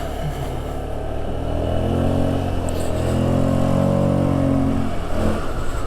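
A 2007 Kymco Agility 125 scooter engine drones steadily close by while riding, its pitch rising and falling slightly as the throttle changes, loud and continuous.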